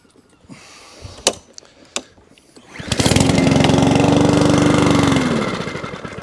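A Mountfield 414 lawn mower engine fires up after a few knocks and clunks, runs steadily and loud for a couple of seconds, then begins to fade as it dies down.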